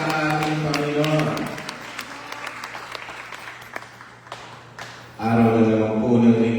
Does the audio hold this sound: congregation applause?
yes